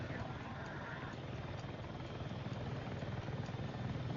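An AH-64 Apache attack helicopter in the game Battlefield 6 flies low and fast, its rotor thumping steadily under the engine whine, with someone talking over it throughout.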